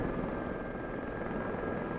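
A helicopter hovers for a rescue in the DCS flight simulator, a loud, steady, close rotor and turbine drone with a constant whine, with no breaks or voices.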